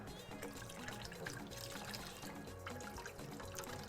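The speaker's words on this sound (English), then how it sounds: "peel it under running water and you will have a clean peeled egg" Tap water runs steadily into a kitchen sink over a boiled egg being peeled, making a constant, fairly faint splashing hiss with no break.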